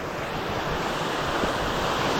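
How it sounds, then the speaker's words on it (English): A small lower waterfall along a hiking trail gives off a continuous broadband roar of falling water, steady and close, with some wind buffeting the microphone. "Here's a little lower waterfall."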